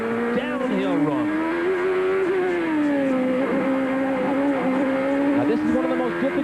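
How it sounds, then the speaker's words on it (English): A 1992 CART race car at Mid-Ohio roars loud and close on an uphill-then-downhill run, its engine note rising and falling continuously, with the car's underside scraping the track beneath the engine noise. "You can still hear the bottom of the car rub the ground."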